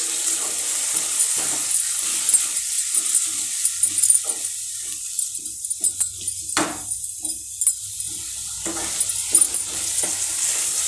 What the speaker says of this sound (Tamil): இப்போ பாருங்க இந்த வெங்காயம் எல்லாம் வதங்கிருச்சு, இந்த குடமிளகாய் எல்லாம் வதங்கிருச்சு.